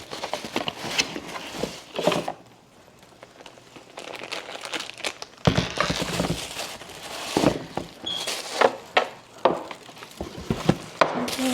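Paper crinkles inside an Air Jordan 5 shoe box as the wrapping is handled, coming in short bursts of rustling and crumpling between quieter pauses.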